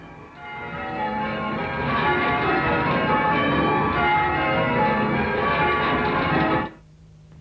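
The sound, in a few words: church bell being rung full circle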